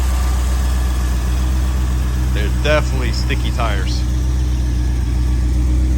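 1984 C4 Corvette idling with a steady low engine rumble, its exhaust manifold leak adding a faint repetitive tick; a person speaks briefly over the engine.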